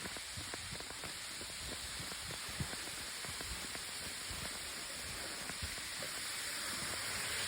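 Rain falling on a forest trail with a waterfall nearby, a continuous hiss of water dotted with scattered drops and patters, steady and fairly close.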